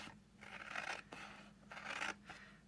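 Scissors snipping through paper while cutting a Santa suit box, two separate cutting strokes of scraping, rasping blade noise, close and fairly quiet, with no talk.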